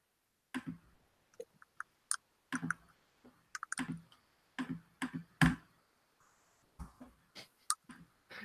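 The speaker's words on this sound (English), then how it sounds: "Someone really is angry clicking." A computer mouse is clicked hard and fast. The sharp, close clicks come in irregular bursts with short pauses between them, and no voices are heard.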